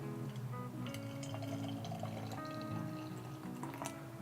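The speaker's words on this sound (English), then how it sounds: "Pouring into my Lake Bay's tulip style glass." Amsterdam Brewery Space Invader IPA is poured from a can into a tulip-style glass, a continuous gurgling, fizzing stream with a few light clinks, close and steady throughout, with no talking.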